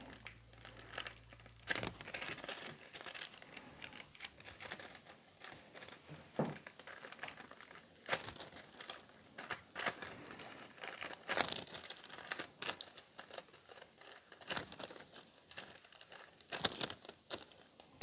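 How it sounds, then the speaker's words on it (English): Transfer foil being pressed onto a freshly cured nail tip and peeled away, producing soft, close crinkling and scratchy rustles that come in irregular bursts for a long stretch without any speech. "And then let's transfer the transfer foil."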